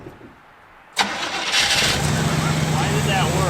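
A big block GMC truck engine, pulled from a shed full of trash, cranks briefly, catches with a sudden loud start and settles into a steady running rumble while people talk nearby.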